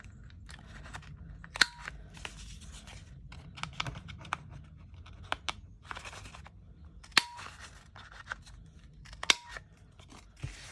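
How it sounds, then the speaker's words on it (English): A corner rounder punches the corners of paper tags, sharp isolated clicks and snaps at irregular intervals over quiet rustling of paper in a close, calm room. "So my next step is I'm going to round all of these corners."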